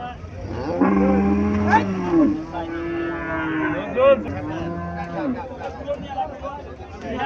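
Cattle at a Cumilla livestock market give repeated drawn-out moos, loud and near, overlapping with nearby voices and market chatter.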